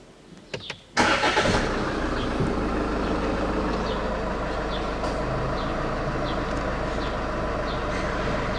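A 2.2-litre Range Rover Evoque engine cranks briefly and catches, then settles into a steady, fairly loud idle that continues alone without talk.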